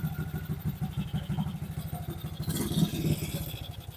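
An old motorcycle fitted with a double starter and a new ignition switch runs steadily close by, its engine thumping and clattering in a continuous rhythm with no one speaking.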